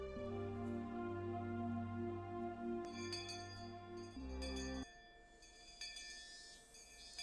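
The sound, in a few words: school bell ringing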